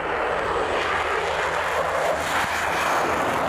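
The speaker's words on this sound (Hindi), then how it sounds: "दोनों देशों के कई विमानों ने पूर्वी चीन सागर और प्रशांत महासागर के ऊपर उड़ान भरी।" Russian and Chinese bomber aircraft fly overhead above the East China Sea and Pacific, a loud, steady, broad engine roar that holds unbroken at close range for the whole stretch.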